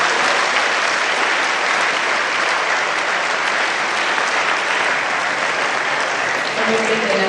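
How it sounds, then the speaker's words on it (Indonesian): Sustained, loud applause from a talk-show audience in a school hall, steady dense clapping filling the whole stretch with no pauses and a few voices faintly rising near the end. "Tepuk tangan dong."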